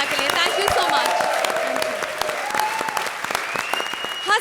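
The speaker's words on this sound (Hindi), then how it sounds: "जोरदार तालियां हो जाए राजीव और सुगंधा के लिए" A studio audience at a comedy show breaks into loud applause, dense clapping that carries through the whole stretch while a host speaks over it.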